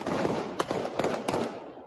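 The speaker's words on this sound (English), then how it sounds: "with gunfire still erupting" Gunfire crackles during an assassination attempt caught in news footage, several sharp reports rising out of a dense, noisy crowd roar over just under two seconds.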